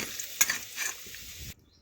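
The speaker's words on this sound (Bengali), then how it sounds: "লাল লাল করে ভাজা হয়ে গেছে আলুগুলো।" Quiet sizzle of potatoes frying in oil in a pan, with a couple of soft stirring scrapes, before the sound cuts off abruptly near the end.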